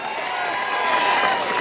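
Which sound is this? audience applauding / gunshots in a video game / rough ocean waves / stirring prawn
audience applauding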